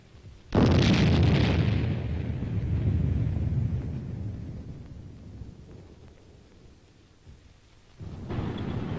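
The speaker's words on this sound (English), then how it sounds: "A mock mushroom cloud rises high in the sky as simulated atomic explosions add" Simulated atomic explosions at a military exercise: a sudden deep, roaring blast that rumbles and slowly fades over several seconds, followed by a second heavy boom near the end, with no voices.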